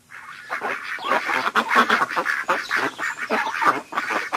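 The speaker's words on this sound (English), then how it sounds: "A duckling popped out of Donald's tank at the first water stop" A duckling quacks in quick, repeated nasal bursts, close and fairly loud, with short gaps between the calls and no talking.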